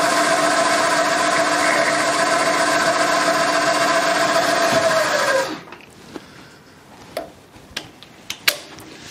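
A drill bit on a milling machine is fed down into an existing hole in metal, a steady loud motor whine and cutting hum for several seconds, then winding down to quiet with a few sharp ticks and clicks.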